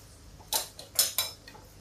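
Vegetables with lemon are stirred in a pan, giving three or four quick, sharp metallic scrapes and clinks of a spoon against the pan over a quiet background.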